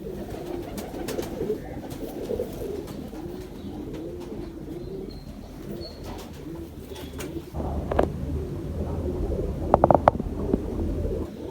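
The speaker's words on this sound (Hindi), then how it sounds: "बड़ा शानदार कबूतर है, सॉलिड कबूतर है, गोश्त खोरा नहीं है।" A pigeon coos close by in a steady series of soft, low, rolling calls over several seconds, with light background rustling and a few faint clicks later on.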